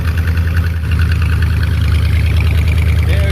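A Mopar 413 V8 paired with a 727 transmission runs steadily on a ground test stand, a loud, continuous low rumble close by with no talking.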